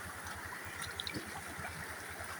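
Flowing water runs steadily against a wall, a faint, even rushing wash with no voices.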